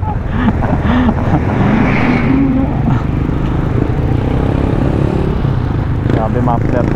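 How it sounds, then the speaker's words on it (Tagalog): Loud motorcycles with noisy mufflers rumble close by in Sitio Baag, San Jose, Tarlac, their engines revving and droning continuously while people talk over the din. "Grabe muffler nyo."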